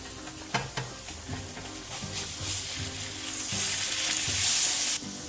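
Scallop and herbs sizzling in a hot pan, a steady close crackling hiss that grows louder toward the end, with a few light knocks and no talking.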